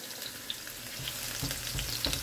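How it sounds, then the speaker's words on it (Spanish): Garlic softly frying in a Spanish sofrito pan, a low steady sizzle with a few small pops, close but quiet for a couple of seconds and no talking. "Pero vamos a esperar a que esto se sofría"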